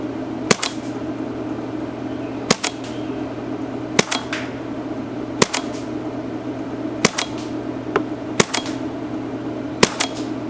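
An Empire Resurrection paintball marker fires across a chronograph on a shooting range: eight sharp, close pops spaced a second or two apart over a steady low background hum.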